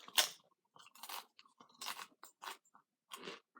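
Big onion-flavored potato chips crunched and chewed close up in several sharp, crisp bursts with short pauses between bites, no talking.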